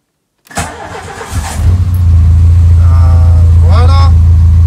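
A car engine cranks briefly and catches, then settles into a steady, loud idle with a little choke applied, while someone talks over it.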